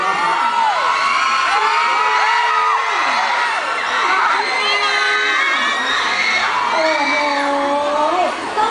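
Fans at an event at Big C Rangsit mall scream and cheer in a loud, sustained wall of high-pitched shrieks and whoops, with overlapping excited voices rising and falling throughout.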